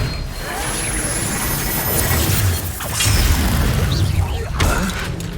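Confringo explosion spells going off in Hogwarts Legacy: loud booming blasts and crashing bursts over a dense, continuous din of game action, with a voice briefly heard.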